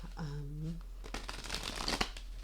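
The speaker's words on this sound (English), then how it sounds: "Let's do a couple more shuffles." Tarot cards riffled and shuffled close up, a rapid papery flutter, preceded by a brief voice and a low electrical hum.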